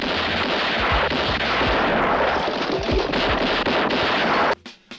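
Gunfire from a spaghetti western shootout fills the scene: rapid, dense volleys of loud shots and ricochets crackle continuously, then break off abruptly into a few scattered, fading reports.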